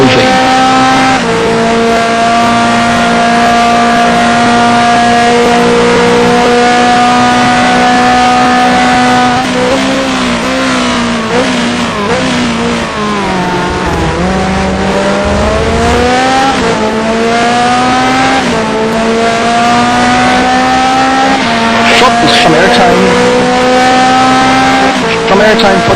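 BMW race cars in an STC Blue Cup round at Le Mans climb the hill after the second turn, engines droning loud and continuous with pitch sweeps through shifts and a brief tire slide, under race commentary.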